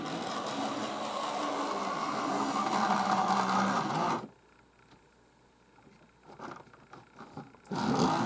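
A Trainz model locomotive hums and whirs along its track for about four seconds, then abruptly drops to near silence with faint clicks and scrapes, before the motor noise briefly resumes at the end.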